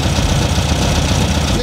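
Air-cooled VW Beetle engine running steadily with raised revs, a continuous loud low rumble with mechanical clatter filling the whole moment, close by.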